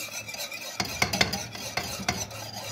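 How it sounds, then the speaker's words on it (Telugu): A spoon stirs assida, a hot sweet Arabian dish, in a pot over a low flame, making a few distinct scraping strokes against the pot over a soft background hiss. "చిన్న మంట పెట్టుకొని బాగా కలుపుకోవాలి"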